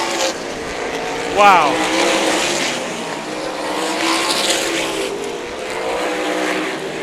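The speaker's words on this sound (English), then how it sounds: "There's a whole bunch of cars down the back straightaway, really heavy racing going on." Sprint cars roar around the Meridian Speedway oval, engines rising and falling as a pack passes, with a brief sharp squeal early on; a voice briefly exclaims over the racing noise.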